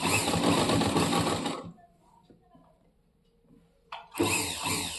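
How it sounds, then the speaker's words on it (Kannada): A sewing machine fitted with an invisible piping attachment stitches piping onto a blouse in fast, loud, rhythmic runs, stopping for a near-silent pause with faint handling clicks before starting up again. "ಆರಾಮಾಗಿ ಪೈಪಿಂಗ್ ಹಾಕ್ಕೊಂಡು ಸ್ಟಿಚ್ ಮಾಡ್ಕೊಬೋದು"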